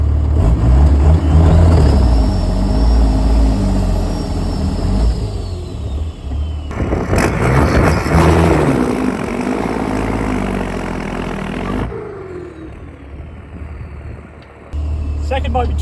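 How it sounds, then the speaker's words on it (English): Cummins diesel-swapped limousine doing a burnout to warm its tyres before a drag race: a loud, steady engine roar with a rising whine, then a harsher surge of revving and tyre noise that fades near the end, with talk over it. "before you do your drag race, you're meant to do a big burnout to warm your tyres up"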